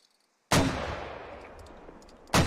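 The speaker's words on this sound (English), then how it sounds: "More mortars coming out." A mortar fires in the video game Squad with a sharp, loud boom that rolls into a long rumbling tail, followed by a second blast at the end, no talking.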